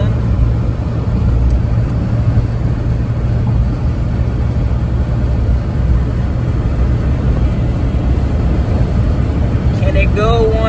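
A Daihatsu Naked kei car engine drones steadily from inside the cabin as it climbs through gear changes, with people talking over the constant rumble.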